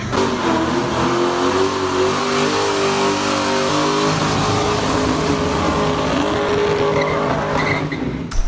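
A turbocharged LS-swapped Mustang engine revs hard and steadily close by, its pitch climbing and holding through the run, ending in a sharp burst at the end with no voices.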